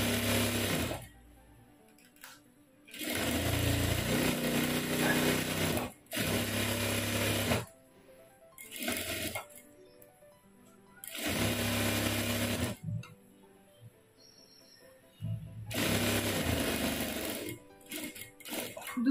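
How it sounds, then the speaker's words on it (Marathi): A sewing machine runs a double line of stitching along a princess-cut blouse sleeve in several loud, whirring bursts of a few seconds each, separated by short quiet pauses. "बाहीला आपण डबल शिलाई देऊन घेऊया."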